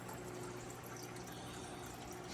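Water runs from a tap as a container fills, a quiet, continuous rushing flow with no breaks.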